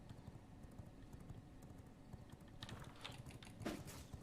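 Horse hooves gallop in the V Rising video game as a quiet rapid clip-clop rhythm, steady and faint, with a couple of louder rustling bursts near the end.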